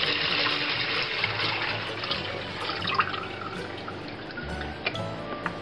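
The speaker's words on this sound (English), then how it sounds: "I'm going to pour the buttermilk into a bucket" Thin leftover buttermilk from making butter with raw milk is poured into a bucket, giving a steady close splashing pour with a few louder drips and splats.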